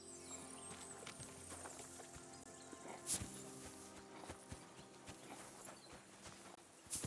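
A horse's hooves clip-clop in Kingdom Come: Deliverance II, soft steady footfalls under a low ambient hum with a few sharper knocks, faint overall.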